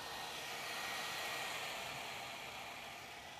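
A hot air solder rework station blows a steady, broadband hiss of air, loud and close, holding constant for a few seconds with no talking.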